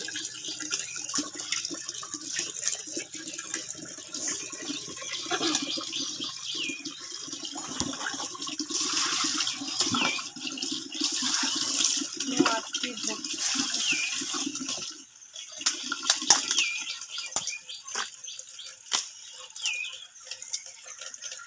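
Running water splashes steadily as soil is washed off freshly picked garden vegetables, with a voice talking over it and clattering handling noises near the end.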